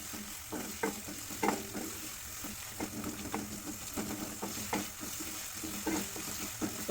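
Onion, green chilli and seasoning seeds fry in oil in a pan with a soft, steady sizzle, broken by intermittent stirring clicks and scrapes, fairly quiet and without voices.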